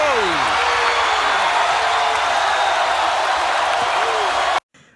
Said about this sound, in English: Just the crowd go crazy.